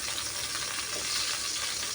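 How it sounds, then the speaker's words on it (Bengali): Shrimp fry in oil in a wok, giving a steady, close hiss of sizzling that holds at an even level with no talk. "পানি শুকিয়ে গেলে এর ভিতরে আমি তেল দিয়ে দেব, পরিমাণ মতো তেল দেব। তারপর চিংড়ি মাছগুলো দিব।"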